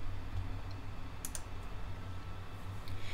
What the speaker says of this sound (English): So simply type in whatever your seed keyword is